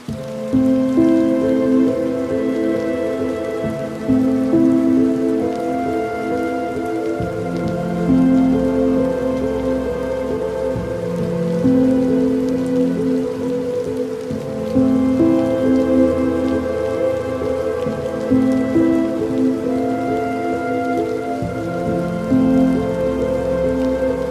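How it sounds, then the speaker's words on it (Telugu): Heavy monsoon rain pours steadily over flooded streets in Tenali, a dense, continuous downpour filling the scene close by with no voices. "ప్రభావంతో తెనాలిలో భారీ వర్షాలు కురుస్తున్నాయి"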